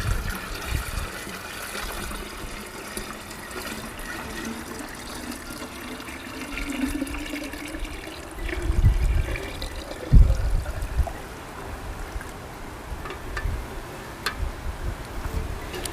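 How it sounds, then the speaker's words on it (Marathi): Water pours steadily into a clay pot hung in a farm garden, a continuous trickling and gurgling stream that shifts slightly in tone as it fills. "मडका आता आपण पूर्ण पाण्याने भरून घेऊया"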